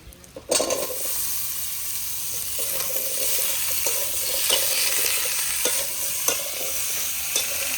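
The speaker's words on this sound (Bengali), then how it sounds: "এখন আমি আগে থেকে কেটে রাখা কচু আর আলু মশলার মধ্যে দিয়ে ভালো করে একসঙ্গে সমস্ত উপকরণগুলো কষিয়ে নেব" Cubed taro and potato tossed and stir-fried in a sizzling spice masala in a pan, a steady loud frying hiss with repeated scraping stirs throughout.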